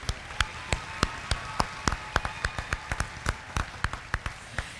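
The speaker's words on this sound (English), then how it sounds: "Please give our judges a round of applause." Scattered hand claps ring out in a hall at a performing arts competition finals as the audience applauds the judges, sharp individual claps in an uneven sparse rhythm, with no speech.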